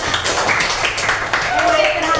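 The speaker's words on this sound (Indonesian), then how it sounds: "kasih tepuk tangan dulu buat semuanya" A class claps together in sustained applause, steady and fairly loud, with voices mixed in.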